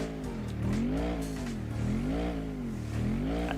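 A racing car engine in Gran Turismo 4 revs in repeated rising and falling sweeps, loud and close, with a steady synthetic tone and no voices.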